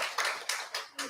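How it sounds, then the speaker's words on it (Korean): A few slow, separate hand claps sound in a church during a Sunday worship service, about four distinct strikes over a second, fairly soft and close. "우리 하나님께 영광의 박수 다시 한번 돌리겠습니다"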